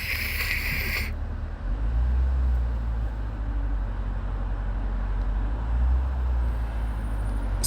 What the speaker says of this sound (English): You can still hear my brakes and rotors. Every time I touch the brakes, it goes.